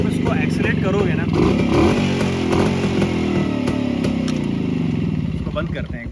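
A 30-year-old restored Rajdoot motorcycle engine runs close and loud with a steady two-stroke clatter. The revs rise and fall repeatedly across the whole stretch.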